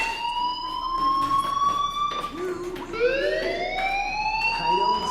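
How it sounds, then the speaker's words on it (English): A fire alarm sounds in the Life is Strange Remastered video game, a loud continuous electronic tone that wavers and sweeps in pitch, steady throughout with slight breaks around the middle. "do you hear that fire alarm? That means you should be outside"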